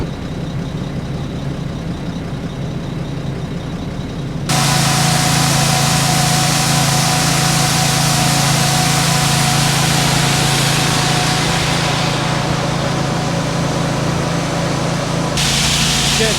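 Loud, steady tractor engine drone with a low hum, starting abruptly after a quieter stretch and continuing evenly while the tractor is refuelled.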